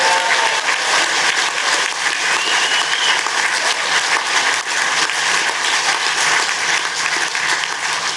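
Brexit Party rally crowd in Edinburgh clapping and applauding, a loud, dense, continuous wash of many hands from a large audience, sustained without letup for several seconds.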